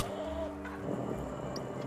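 Chickens cluck in the video game Tom the Postgirl, a rapid run of hen-like calls up close with a rooster-like tone, set over steady game background sound.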